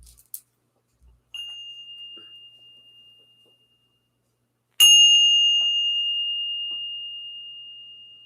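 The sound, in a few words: bell rung to clear the energy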